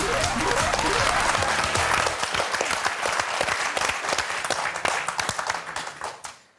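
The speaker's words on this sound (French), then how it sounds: "on va applaudir les quatre candidates" Studio audience applause for four contestants on the French word game show Motus, a dense, loud burst of clapping that carries steadily for several seconds, with a brief bit of music at the start, and then tapers off at the end.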